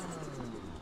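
An Ibishu Pessima engine revving in a driving video game, a steady low roar held throughout at moderate level with no talk over it.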